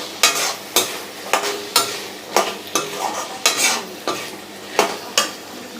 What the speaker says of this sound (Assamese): এয়া বইল কৰা বুটখিনি দি দিলোঁ। অকণমান ভাজি ল'ম এইখিনি।